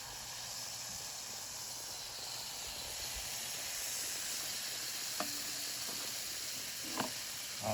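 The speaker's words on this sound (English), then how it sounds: "Just get a nice little sear." Steak searing in a hot pan for a steak Diane, a steady close hiss and sizzle that holds evenly throughout, with a couple of faint clicks near the end.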